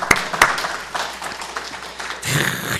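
Church congregation applause during a Sunday worship service, a few sharp individual claps at first, then scattered clapping before a fuller burst of hands swells at the end, heard fairly close and loud.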